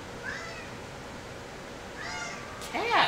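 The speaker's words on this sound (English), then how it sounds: "Kitty! Stop meowing." A house cat meows several times: two drawn-out meows, then a louder, more insistent cry at the end, over faint background game audio.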